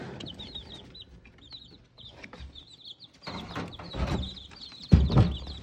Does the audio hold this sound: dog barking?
no